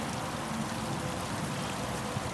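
Water from a disc-spring garden fountain cascades over a hosta-leaf sculpture, making a steady, close, full rushing and splashing that holds constant, with no voices.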